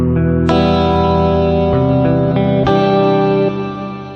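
An electric guitar run through plate reverb on a Boss GT-1000 pedal plays several loud chords that change in sequence and ring with a smooth reverb tail, ending in a fading wash with no talking.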